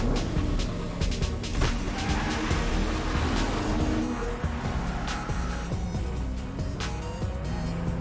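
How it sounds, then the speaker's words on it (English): A Nissan Maxima four-door sports car roars hard with revving engine, squealing tires and skidding, a loud continuous driving sequence from a TV commercial with no talking. "The new Nissan Maxima, the four-door sports car that's raw, refined, and all you."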